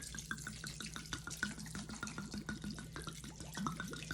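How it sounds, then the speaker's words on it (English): Red wine pours from a bottle into a pan of beef broth for an oven-braised brisket, a steady close liquid trickle and splash that runs unbroken for several seconds with no talk. "we are going to pour our wine"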